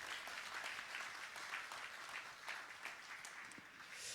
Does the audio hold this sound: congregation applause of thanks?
yes